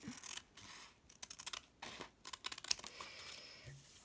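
Paper being cut with scissors in a run of crisp, short snips and rustles at close range, quiet and without talk.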